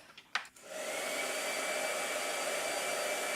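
A blow dryer starts up after a few faint clicks and then runs in a steady, loud whoosh with a thin whine, continuing alone without any talk.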